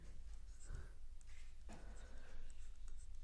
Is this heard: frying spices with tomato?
no